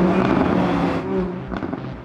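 A Lamborghini's 5.2-litre, 600-horsepower engine roars loud and close, holding a dense, sustained revving note that eases off after a second or so, with sharper bursts near the end.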